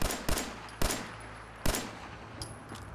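Fallout 4 weapon fire with a reverb mod: three loud, sharp shots spaced about half a second to a second apart, each trailing into a long echoing tail over a low hum, with a fainter pop near the end.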